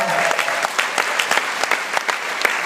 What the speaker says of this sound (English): Guys, give them a round of applause for those answers.